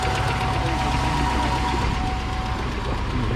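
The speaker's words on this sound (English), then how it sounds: "Sounds like we got a little bit of an exhaust leak." A 2003 GMC Yukon XL idles with an exhaust leak, giving a steady, close, loud engine drone with a rough low rumble and a thin whine running throughout.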